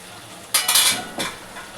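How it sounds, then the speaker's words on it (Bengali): Fried spice powder is stirred into a vegetarian potato and pumpkin curry with ghee in a pan: two short, close scraping strokes with a faint sizzle underneath. "একটু ভাজা মশলা মেখে দিয়ে দিলাম।"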